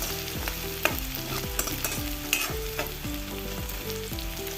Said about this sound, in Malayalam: ഇത് നല്ലപോലെ ഒന്ന് ഇളക്കി കൊടുക്കാം ഉള്ളി ഒന്ന് വാടി വരണം